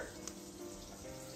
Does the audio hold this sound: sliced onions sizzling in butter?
yes